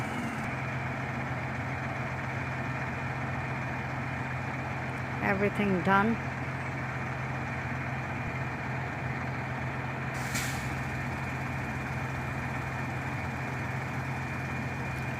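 A shingles delivery truck idles steadily with a loud, constant engine drone, and a short hiss of the air brake is released around the middle. Brief talk is heard over the engine.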